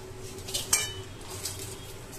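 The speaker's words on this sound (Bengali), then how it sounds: "এটাকে একটু কন্টিনিউ নাড়তে হবে, না হলে নিচের দিকটা বেশি লাল হয়ে গেলে" Semolina halwa (suji) being stirred in a pan, with a few light metallic scrapes and clinks of a spoon against the pan over a low, steady background.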